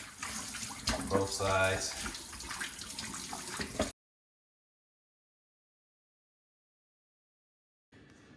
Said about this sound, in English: So I'm washing meat.